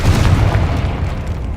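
A Confringo fire spell explodes in the Hogwarts Legacy video game, a loud, deep, rumbling boom that rolls on steadily with no voices over it.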